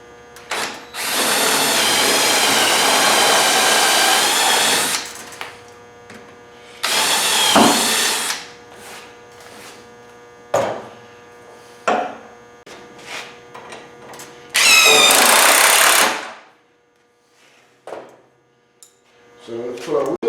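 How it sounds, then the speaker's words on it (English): A power drill runs in a few long, loud whirring bursts as it bores holes down through wood. Quieter clicks and handling noises fill the gaps between bursts, and the clip ends in near silence. "We'll just go ahead and drill them down through."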